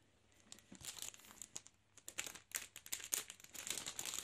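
Plastic wrapping on an NBA trading card pack crinkles and tears in quick, irregular bursts, close and fairly quiet, with crackling growing busier toward the end.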